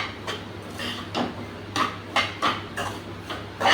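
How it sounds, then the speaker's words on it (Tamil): Semolina and grated coconut roast in ghee while a spoon scrapes and taps the pan in an uneven rhythm of short, close clinks and scrapes, with no voices. "இப்போ நான் தேங்காய் பூவும் இதில் நான் போட்டு ஒட்டுக்காவே வறுத்துக்கிறேன்"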